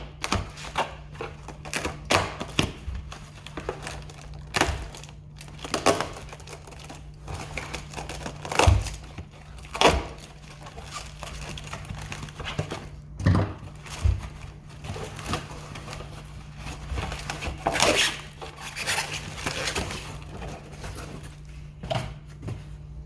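Packaging wrap being cut off a new black motorcycle seat cowl for an old Suzuki GSX-R 600: close, irregular snips, crinkles and plastic rustles with sharp clicks scattered throughout, and no speech.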